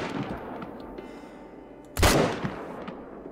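A single loud rifle shot fired at mountain goats in the hunting video game theHunter: Call of the Wild, sharp and sudden, trailing into a brief echo over quiet ambient wind.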